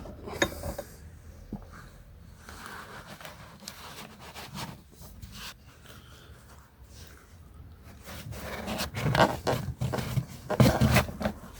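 Hand unscrewing the oil filter on an Opel Meriva A 1.7 CDTI (Z17DTH engine), heard as close, irregular metallic scraping and rubbing that builds louder toward the end, with no talking.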